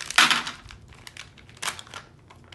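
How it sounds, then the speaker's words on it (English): Crinkly plastic rustling and a couple of crisp snipping sounds up close, as a pouch is cut open. "I need scissors to cut along here"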